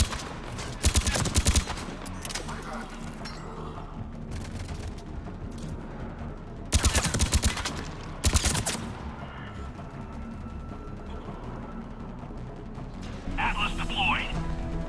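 Rapid automatic gunfire bursts out in the video game Mass Effect 3 during a firefight, several loud rattling volleys spread across the stretch over constant battle noise, with voices shouting between them.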